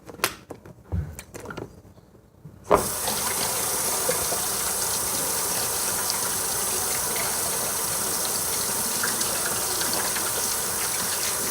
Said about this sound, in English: You always want to wash your hands first